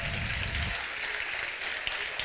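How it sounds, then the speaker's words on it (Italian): Audience applause for the three judges of a singing competition music show at a beach club, a dense, steady wash of clapping that stays loud throughout, with a low rumble at the start. "a cui va un altro bel applauso"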